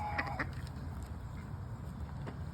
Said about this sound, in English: Oh, you hear the ducks?